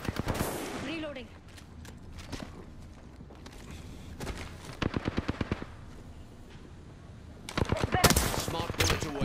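Rapid bursts of smart-bullet gunfire from Ballistic in Apex Legends, loud volleys of sharp shots in clusters with gaps between, over game sounds and some voice lines.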